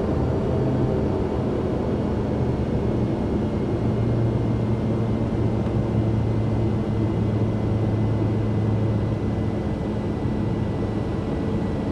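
A heavy airliner rolls slowly along airport taxiways in a flight simulator, giving a continuous loud jet engine drone with steady low tonal hum and no speech.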